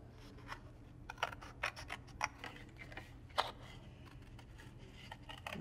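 Scissors snip through paper or cardstock while a gift box is being resized, giving a series of short, crisp cuts at an uneven pace, close and fairly quiet with no talking.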